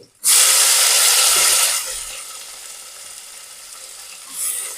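Tomatoes and turmeric hit hot oil in a tempering for vegetable khichdi, bursting into a loud, bright sizzle that holds strong for about a second and a half, then drops to a softer steady crackle with a brief flare near the end.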